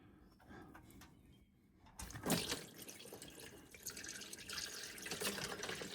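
Old engine oil from a 2017 Subaru Ascent pours into a drain pan on a basement floor, a steady liquid splashing and trickling that grows fuller and louder after a sharp start, with faint dripping before it.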